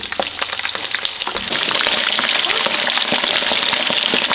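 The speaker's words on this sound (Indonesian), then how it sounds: "Sekarang kita menggoreng ayam." Chicken pieces crackle and sizzle in hot oil, a dense, continuous frying hiss that grows slightly louder partway through, close up and without talk.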